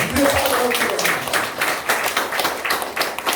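A church congregation claps together during a sermon, a burst of many hands with distinct rhythmic slaps, loud and close, with voices mixed in beneath.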